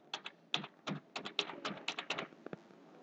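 A phone number is typed in to pay for an online order: a quick irregular run of about fifteen crisp key taps, close and clear, with no talking.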